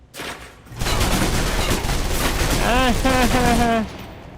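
Submachine guns fire in rapid bursts during close-quarters combat in the video game Alpha Protocol, forming a loud, dense, continuous crackle that stops abruptly after several seconds, with a voice rising over the gunfire near the end.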